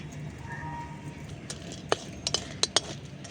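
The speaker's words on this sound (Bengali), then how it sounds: "তিনটে শুকনো লঙ্কা দিয়ে একটু ভালো করে ওটাকে নাড়াচাড়া করে নেবে" Dry red chillies stirred in a wok with a metal spatula, a few sharp clinks and scrapes near the end over a quiet background, close and moderately faint.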